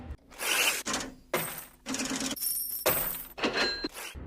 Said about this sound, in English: built entirely from manually spliced tape loops of cash register sounds, tearing paper, and dropping coins